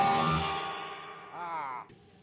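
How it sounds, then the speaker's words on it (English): An electric guitar runs through a Texas Ranger overdrive pedal, giving a gritty, distorted tone. A short chord rings and fades, then a wavering bent note follows, fairly quiet and brief. "It's like a really nasty overdrive sound."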